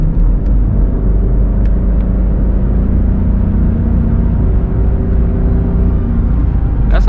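A 2001 Mercedes-Benz S430 with a 4.3 liter V8 pulls at full throttle uphill, a loud, steady engine roar and deep rumble heard from inside the cabin, with no talking.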